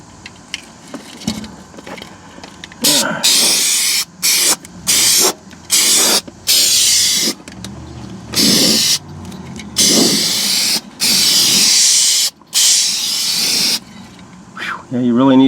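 Spray coating hissed onto a Chevrolet Silverado truck bed above the rear wheel well, in repeated loud bursts of a second or so separated by short pauses, with faint talk in the quieter gaps.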